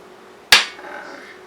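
A spoonful of biscuit dough drops into a cast iron pan, landing with a single sharp close thud that rings briefly and fades over a quiet background.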